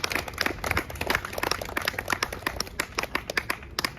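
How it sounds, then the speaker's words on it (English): An outdoor crowd at a protest rally against migrant hotels claps in fairly close, crisp bursts. The applause is dense at first and thins into scattered individual claps toward the end. "So give you a round of applause"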